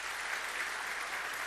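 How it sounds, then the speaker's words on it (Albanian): An audience applauding at a theatre festival in a hall, steady dense clapping sustained throughout, fairly close and even in loudness, with no voices over it. "Një duartrokitje."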